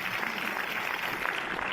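Audience applause at a film premiere for director Claude Lelouch and actor Kad Merad, a steady, dense wash of clapping that holds evenly throughout without pause.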